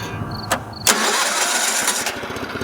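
An old project car's engine cranks briefly, then catches and runs loud and close with an uneven, rough idle.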